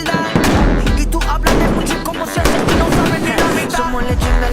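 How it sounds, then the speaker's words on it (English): Loud, rapid bangs from exploding hammers go off in a street during a festival, overlapping blasts crackling close by with a dense, chaotic rhythm. "A lot of explosions going off in the street up ahead."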